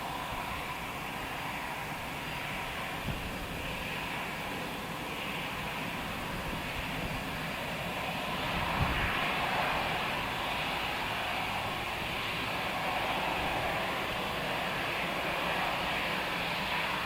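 A jet aircraft roars at Luton Airport, a broad, steady rushing drone heard from a distance that swells slightly midway and holds for the whole stretch, with no voices.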